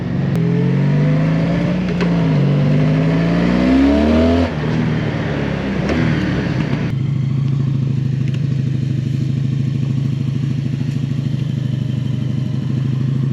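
A 1986 Honda Magna V65 motorcycle engine revs loudly up close, its pitch climbing and falling through several throttle blips before settling into a steady, rough high idle, with no talk.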